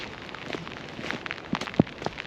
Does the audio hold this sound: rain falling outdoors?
yes